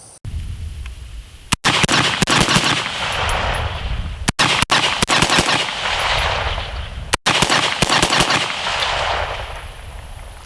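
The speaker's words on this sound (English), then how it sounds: "Next up, we have the same ammunition, 5, 5, and 5," Rifle firing 5.56 ammunition through a Dead Air Pyro suppressor, a rapid stream of loud, sharp reports in several bursts separated by short gaps, close and dominant with no talking.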